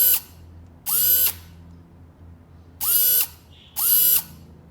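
A gel blaster motor with ferrous magnets spins up in four short bursts, each a sharp rising whine that quickly levels off and stops, separated by brief gaps with a faint low hum.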